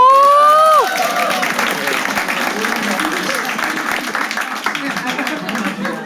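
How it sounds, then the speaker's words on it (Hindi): A stand-up comedy show audience claps and cheers steadily throughout, dense and fairly loud, while a voice speaks over the start of the applause. "एक बार ताली बजा सकते हो."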